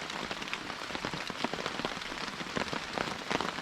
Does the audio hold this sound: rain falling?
yes